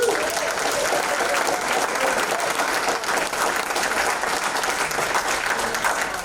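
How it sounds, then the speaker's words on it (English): Sustained, full applause from a film festival audience after a talkback on a movie's world premiere, a thick, even roar of clapping holding steady throughout. "a round of applause for the world"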